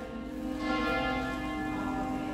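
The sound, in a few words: church bell ringing at a medieval castle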